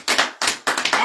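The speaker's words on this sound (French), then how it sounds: "Applaudissez, applaudissez." A celebrating crowd claps in unison: loud, close bursts of many hands striking together in a quick, regular rhythm, with brief gaps between them.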